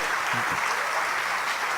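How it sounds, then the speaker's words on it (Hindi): A crowd at an award ceremony applauds with a dense, continuous wash of clapping that holds steady throughout the short clip. "देवियों सज्जनों, और जोरदार से तालियां मैरी कॉम जी के सम्मान के लिए।"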